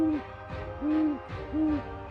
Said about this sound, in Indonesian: Dari suaranya, burung hantu tanduk besar menang,